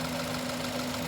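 Car engine running during misfire diagnosis, a brief steady idle with a constant low hum and rumble close by.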